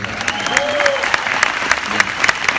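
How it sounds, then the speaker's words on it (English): An audience at a motivational speaking event gives a brisk round of applause, many hands clapping close together, with a few voices calling out over the claps. "Give him a round of applause."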